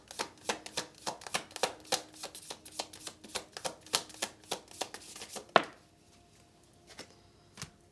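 Tarot cards being shuffled in quick, evenly spaced riffling strokes, close and crisp, ending with a sharp snap, then a few soft, slow card draws and placements in near silence.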